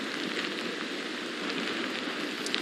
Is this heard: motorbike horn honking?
no